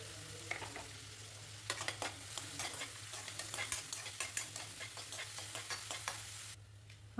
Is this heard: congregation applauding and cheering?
no